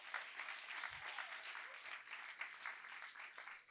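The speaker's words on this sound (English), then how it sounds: "Everybody, round of applause for Sam." Audience applause at a social club event at the Exploratorium, with dense steady clapping from a crowd filling the room for the full stretch, fairly even in loudness throughout.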